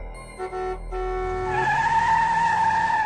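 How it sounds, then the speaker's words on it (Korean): A car's tires screech in a long, rising squeal as the driver brakes hard on a road, following a few short tonal blips, loud and close. "운전자가 도로에 넘어진 제리를 발견하고 급히 브레이크를 밟았습니다"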